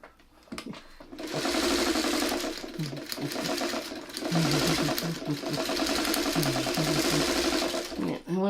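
A sewing machine stitches fabric for a quilt block, running in a steady, close, rapid whir for most of several seconds, with a brief pause midway and soft voices underneath.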